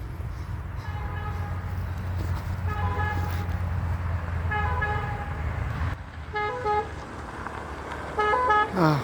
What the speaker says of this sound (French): Ah, enfin l'ambulance.